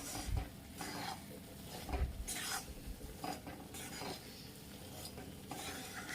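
Dink, edible gum, roasting in ghee in a pan on a low flame, with steady soft sizzling under repeated scraping and stirring strokes of a utensil against the pan.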